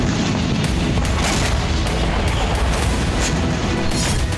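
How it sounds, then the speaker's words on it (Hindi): Missile and drone strikes on Sevastopol bay, with a series of loud booms and sharp blasts bursting repeatedly over a constant dense rumble, with no voices. "यूक्रेन ने सेवास्तोपोल बे को मिसाइलों और ड्रोन से थर्राया"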